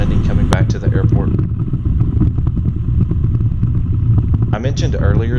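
A Rallye light airplane's engine drones steadily through a landing approach to an airport, loud and close in the cabin, with a person speaking over it throughout.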